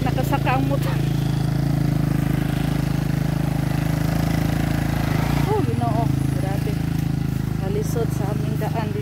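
A motorcycle engine runs steadily nearby, giving a loud, constant idling drone throughout, with voices talking faintly over it.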